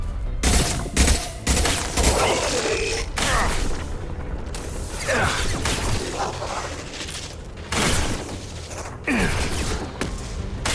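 Impact shot weapon fire in the video game Mass Effect 2, loud bursts of gunfire and mechanical clanks in irregular clusters amid combat noise, with brief grunts or sighs.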